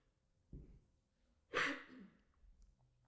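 A soft throat sound, then one sharp, close, phlegmy cough with a raspy tail, in an otherwise quiet room.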